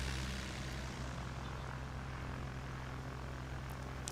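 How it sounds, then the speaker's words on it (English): A STOL airplane taxis off the runway at the National STOL Series Championship in Sulphur Springs, Texas, giving a steady, fairly distant propeller-engine drone with low tonal hum that holds throughout without talk. "As he taxis off the runway, we have DJ Holman."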